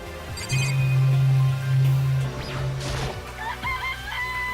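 Chickens in Danganronpa: Trigger Happy Havoc cluck and squawk close up, one drawn-out low call followed by shorter clucks and higher chirping calls, over steady game background ambience.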